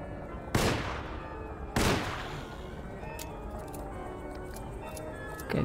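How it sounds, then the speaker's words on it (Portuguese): Two sharp revolver shots fired in the video game Alone in the Dark, spaced about a second apart, each a loud crack with a short decaying tail over a steady ambient game background. "Dois tiros também só, mano. Um revólverzinho ruim"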